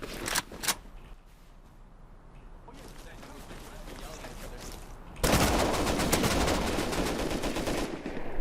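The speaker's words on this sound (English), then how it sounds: "this guy's literally sniping though" Gunfire in the video game Rust: a few sharp shots at the start, then a dense, continuous stretch of rapid firing, with voices talking underneath.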